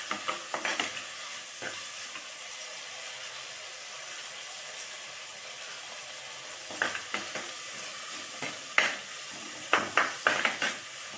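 Shallots with dried red chillies and green chillies sautéing in a pan, a continuous soft sizzle broken by repeated scraping stirs of a ladle against the pan, clusters of strokes near the start and end, close and alone.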